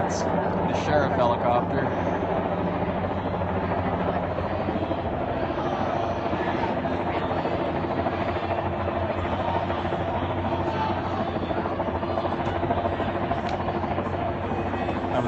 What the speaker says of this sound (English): That's the sheriff helicopter.